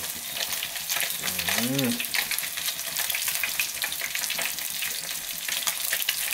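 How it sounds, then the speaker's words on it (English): Steady crackling sizzle of food frying in hot oil, loud and close, with a brief murmured voice partway through. "So the frying look nice"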